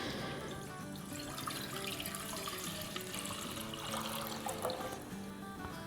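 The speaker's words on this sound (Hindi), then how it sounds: "यहाँ हमारे पास एक थोड़ा बड़ा पॉट है, इसमें हम डालेंगे 3 कप दूध रेगुलर" Three cups of regular milk poured into a fairly large pot, a steady liquid stream splashing and trickling for several seconds over faint background music, with no voices.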